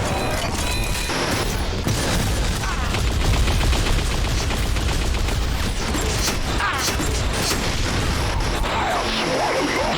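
Rapid energy-weapon fire from a shock rifle in Unreal Tournament, played among other shooters, rings out as dense, continuous bursts of blasts and impacts throughout, loud and close with little pause.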